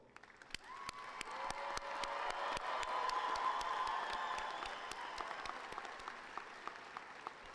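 A large commencement crowd in a hall applauds engineering graduates with sustained clapping that swells in the middle and tapers slightly. Light cheering sits in the background and a few sharp claps stand out near the end.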